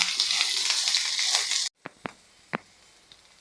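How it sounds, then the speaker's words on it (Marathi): Mixed vegetables for a hotel-style veg Kolhapuri sizzle hard on a high flame for about 1.7 seconds, a loud, steady frying hiss, then it cuts off sharply and a few brief stirring scrapes and knocks sound in the quiet pan. "अगदी पाच मिनटे आपल्याला फक्त ह्या मोठ्या फ्लेमवर परतून घ्यायच्या आहे"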